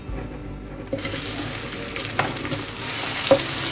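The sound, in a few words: onions frying in oil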